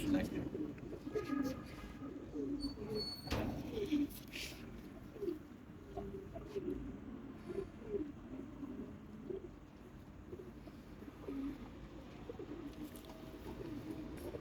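Soft, low pigeon coos repeat throughout against a faint background hum, with a few brief clicks and rustles.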